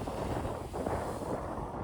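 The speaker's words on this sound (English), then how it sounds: "It was very, very windy." Strong wind on a day out in Rhodes, Greece, a constant low roar buffeting the microphone with no voices.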